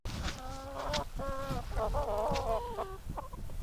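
Backyard flock of hens and pullets clucking and squawking close by, with several overlapping bird calls in steady bursts throughout.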